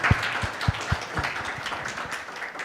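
Audience applause for a speaker at an AI conference: a dense wash of many hands clapping at steady loudness, with some heavier nearby claps standing out, and no voices over it.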